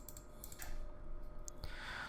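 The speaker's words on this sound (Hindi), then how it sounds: "मैं यहाँ पर इंक्रीमेंट में क्लिक करता हूँ" A computer mouse clicks the increment button of a ReactJS app running in a web browser: a few soft, quiet taps in a near-silent room, with no talking.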